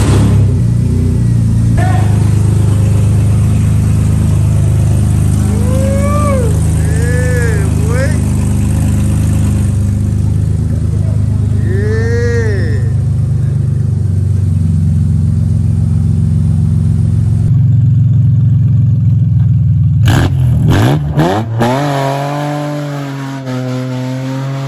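A BMW E36 convertible engine fitted with new aftermarket headers cranks and runs with a rough, uneven idle from a misfire, loud and close. People talk over it, and some revving and a sharp shift in the sound come near the end.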